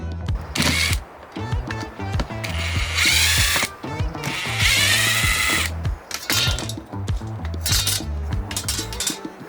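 A power tool tightens bolts on the bumper of a 20-year-old truck camper in a forest, loud close bursts of whirring and clicking ratchet action in several runs separated by brief pauses.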